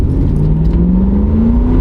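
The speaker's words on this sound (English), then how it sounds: "Listen to that V8." A V8 car engine pulls hard under full acceleration, a steady rising drone with the pitch climbing smoothly throughout, loud and close with no one speaking.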